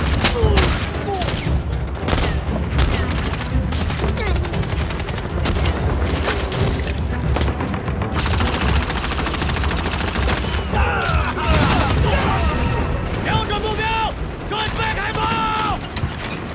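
Gunfire and artillery shelling from a war drama, a dense, loud barrage of rapid shots and booms sustained throughout, with shouting voices and whistling tones breaking through in the later part.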